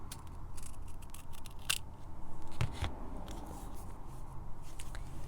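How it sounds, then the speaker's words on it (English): Scissors trimming small excess pieces of paper in a craft setting, a few crisp snips and rustles close by over a quiet room. "I just go ahead and trim off any little excess pieces"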